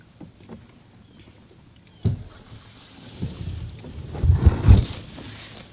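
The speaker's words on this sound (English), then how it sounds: "the splashing that you hear, I'm actually using a pedal" Water splashes around a Hobie Pro Angler 14 kayak as its pedal drive churns, with a sudden splash followed by a louder, rougher burst of churning over steady wind noise on the microphone.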